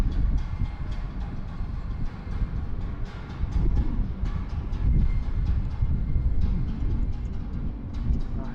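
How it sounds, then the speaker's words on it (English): An Austrian Airlines Boeing 777 in a 60th-anniversary special livery at Bangkok airport, heard as a steady, loud, broad jet rumble that swells midway and holds, with wind buffeting the microphone. "So Ivy, if you're tuning in, this Austrian 777 wearing this 60 years special livery is dedicated to you"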